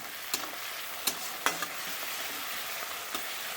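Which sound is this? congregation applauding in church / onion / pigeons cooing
onion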